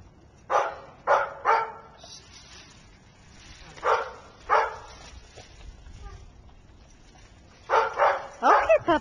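A puppy at an animal adoption event barks in short clusters of two or three yaps separated by pauses, close and fairly loud, with faint room noise between.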